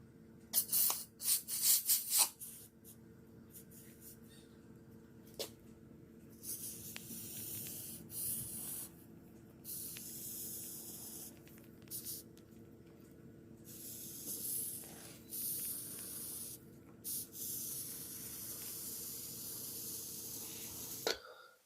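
Expanding foam sprays from a pressurised can into the gap around a sliding patio door, a series of close, breathy hissing bursts of varying length with short pauses between them and faint background sounds.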